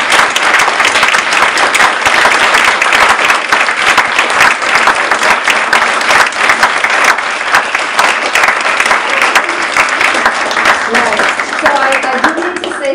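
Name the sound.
audience applause for the forum speakers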